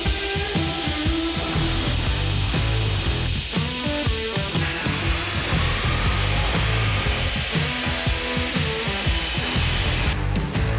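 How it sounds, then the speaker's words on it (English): Grinder steadily working the bevels of a forged Damascus Viking sword blade, a continuous loud abrasive whir with rhythmic grinding pulses throughout, no talking. "it's time to grind the bevels"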